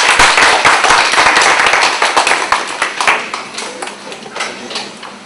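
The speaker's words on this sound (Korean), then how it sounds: "박수로 맞이하겠습니다" Audience at a SIFE Korea event claps to welcome a speaker, loud dense clapping at the start that gradually thins into scattered individual claps and fades.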